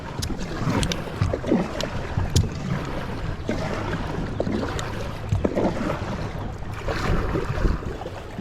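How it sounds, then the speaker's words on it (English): A Perception Outlaw 11.5 kayak paddled down a creek, with splashing paddle strokes and water rushing against the hull in an uneven rhythm, plus some wind noise, close and fairly loud, with no talking. "Let's paddle down the creek for a minute."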